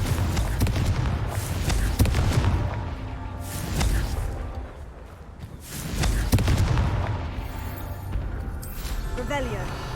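Confringo blasting spell in Hogwarts Legacy going off as loud fiery explosive bursts, with several booming impacts over a steady roar of game battle noise.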